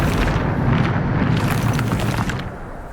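A Bombarda spell explodes in the Hogwarts Legacy video game: a loud, broad booming blast followed by a rumbling, crackling tail that slowly fades, with no voices.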